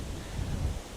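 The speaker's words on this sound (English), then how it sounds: "Sorry about the wind." Low, steady wind buffeting an outdoor microphone fitted with a furry dead-cat windscreen, a continuous rumbling roar that swells slightly midway through one second, with no voices.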